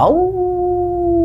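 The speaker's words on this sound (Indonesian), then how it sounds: "Itu suara anjing" A dog gives a single long sustained howl, rising then holding a steady pitch, loud and close.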